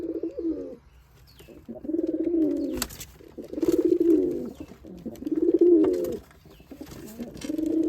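Giribaz pigeons at a home loft coo in repeated low, rolling phrases, several bouts in a row with short pauses, fairly close and clear with no talking over them.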